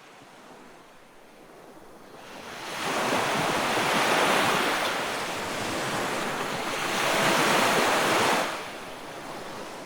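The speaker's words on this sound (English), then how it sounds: "you are on a ship in the ocean." Ocean waves surge around a ship in a Roblox game, two long loud swells of rushing surf with windy noise between them and no talking.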